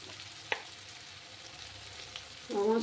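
Ground coriander, cumin and Kashmiri chili powder frying in a pan for a Bengali katla fish curry, with a soft, steady sizzle, a couple of faint clicks of stirring, and a louder burst near the end.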